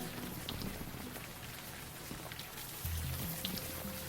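Steady rain falls in the Unavowed video game, a dense continuous patter that holds at an even level with a slight swell near the end, with no voices over it.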